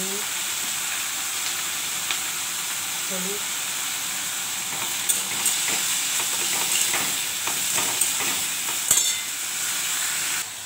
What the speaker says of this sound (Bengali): এখন উচ্ছে ভাজবো আমি এখন।